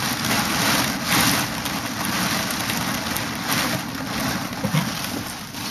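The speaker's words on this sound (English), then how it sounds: "So hopefully the rain will stop soon." Steady rain from Tropical Storm Fay hisses down continuously, close and fairly loud, with a low rumbling hum underneath.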